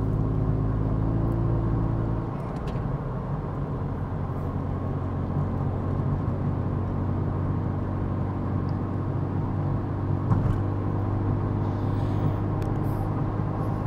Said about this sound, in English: the car on the highway, like we're driving 70, 80 kilometers an hour right now, that's actually fine.